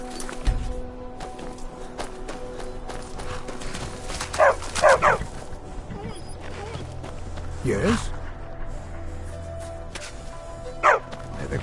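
Bark-like yips from a trained war dog in the video game Skyrim, a few short bursts spread through the clip over steady game ambience, with a voice speaking at times.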